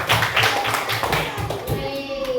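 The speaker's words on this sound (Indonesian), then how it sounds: "Tepuk tangan dulu dong." Children in a classroom clapping together in a quick rhythmic pattern of about a dozen claps, close and fairly loud, with a faint voice beneath toward the end.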